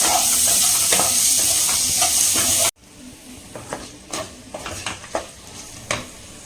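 Onions with rock salt sautéing in a pan: a loud, steady sizzle that cuts off abruptly, followed by quieter frying hiss with scattered scraping stirs.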